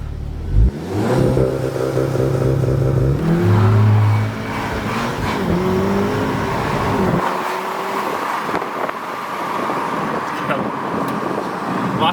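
A tuned car engine fitted with a test induction intake revs hard during a launch, rising in pitch over several seconds before dropping into a rougher, steady roar with road noise.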